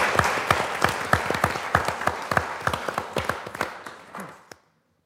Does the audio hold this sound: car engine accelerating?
no